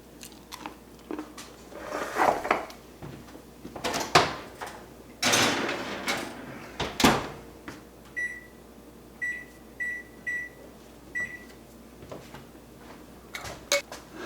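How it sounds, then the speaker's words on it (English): A tray of peanut butter oatmeal muffins goes into a preheated oven. Close clunks and rattles come from the oven door and the rack, then a run of short electronic beeps, with no talking. "As for these, we're going to pop them in the oven."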